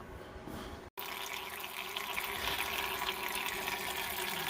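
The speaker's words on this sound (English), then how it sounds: "Draining the fuel filter" Liquid drains from a primary fuel filter and water separator on heavy equipment during an oil change, a steady close trickling wash with a brief dropout near the start, no voices.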